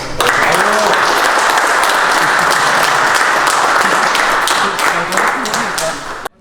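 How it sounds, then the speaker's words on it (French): Audience at an MMA event applauding the fighters, loud sustained clapping from a crowd with voices mixed in, fading slightly near the end before cutting off. "Bon, on les applaudit bien fort."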